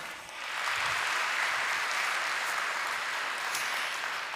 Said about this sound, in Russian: Давайте еще поприветствуем аплодисментами